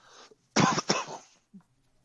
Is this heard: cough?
yes